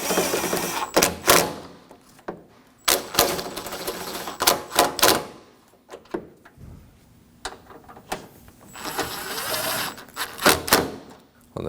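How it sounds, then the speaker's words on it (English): Ratchet fitted with a 10 mm swivel working loose the front bolts on a 2016-2022 Honda during passenger-side A/C condenser fan replacement, giving bursts of rapid clicking and metallic rattles that stop and start across the clip, close and fairly loud. "I'll be using a 10 millimeter swivel to get these front ones."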